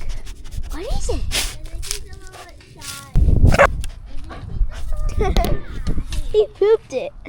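A dog barks and whimpers in a series of sharp, close yelps mixed with children's voices and other nearby talk.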